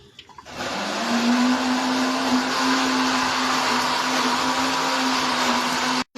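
A kitchen mixer grinder whirs steadily and loudly while grinding soaked dal lentils into a paste, a continuous motor drone running for about five seconds before cutting off abruptly near the end.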